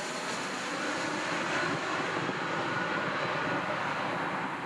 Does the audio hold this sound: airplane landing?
yes